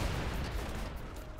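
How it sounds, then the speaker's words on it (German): A tanker truck explodes in a goat video game, giving a distant, muffled boom that fades into a broad rumbling roar, heard alone at low level. "Das war der Tanklaster. Explodiert auch alles in dem Game."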